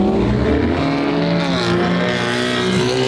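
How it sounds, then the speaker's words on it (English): Loud Ford Mustang running a flame tune, its exhaust rumbling and revving steadily for a few seconds in an outdoor car gathering. "The Flame Tunes on these Mustangs, man."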